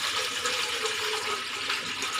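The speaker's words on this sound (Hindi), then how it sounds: "अब हम इस तरह से इडली और खमन का जो पॉट आता है वो लेंगे और उसमें पानी डालेंगे" Water pours steadily from a tap into an idli khaman cooker pot, a continuous broadband rush filling the vessel at close range with no pauses and no one speaking.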